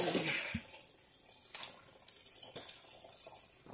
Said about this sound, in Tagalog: Pinupuno ko yung timba bago maligo.